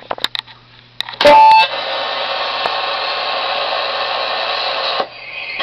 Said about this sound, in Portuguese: Disparou um alarme aqui.